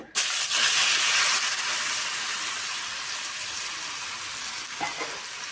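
Apple pieces sizzle loudly frying in hot ghee, a steady crackling hiss from the pan with occasional stirring sounds, no voices.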